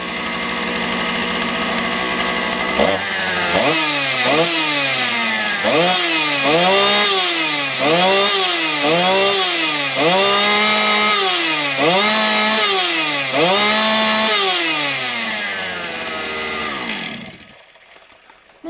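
A Motor Sich 270 chainsaw engine runs loud and close at low idle for a long stretch, its rough, pulsing rhythm repeating steadily before the engine cuts out abruptly near the end.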